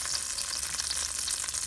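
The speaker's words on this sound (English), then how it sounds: "So that's what you want to hear, that good sizzle sound." Chicken searing in hot olive oil and butter in a pan, a continuous close, bright sizzle and crackle with no talking.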